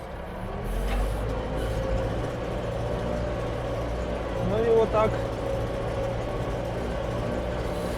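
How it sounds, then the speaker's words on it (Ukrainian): A DTZ 5504 tractor pulling a Kverneland plough through manure-spread field, its engine a steady low drone throughout with a brief louder mechanical swell midway, heard from nearby. "Наш квернелендик працює."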